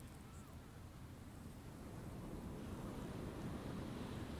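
Ocean surf rolling onto a beach at sunset, a steady, continuous wash of waves with wind rumble against the microphone, moderately loud and unbroken with no voices.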